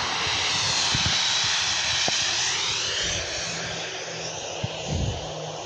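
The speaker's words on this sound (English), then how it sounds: "Ryanair 737-8" Ryanair Boeing 737-8 jet at Bournemouth airport, a broad roaring engine rush with a rising whine, steady and fairly distant, easing slightly toward the end.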